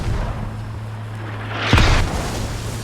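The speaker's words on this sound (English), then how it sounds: "Mortars coming down on this radio" A mortar shell exploding in the Squad military shooter, a single loud close blast with a sharp crack and rumbling tail after a steady low engine hum, no talking.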